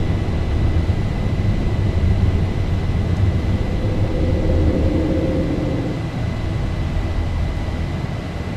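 Boeing 737-800 jet engines in a flight simulator roar steadily through a takeoff climb, a broad constant rumble with a thin whine on top, loud and continuous with no talk.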